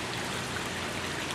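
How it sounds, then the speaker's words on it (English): Water from an aquaponics grow bed sprays steadily back into the fish tank after filtering through cinder rock, a continuous close splashing stream with no talk over it. "then comes back out and sprays back into the tank there"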